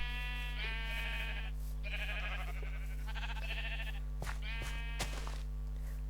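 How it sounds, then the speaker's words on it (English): Sheep in the video game Minecraft giving several short, nasal bleats in a row, clear and close over a steady low hum, with no talking. "This place is quite busy because it's got all the sheep and all the cows here."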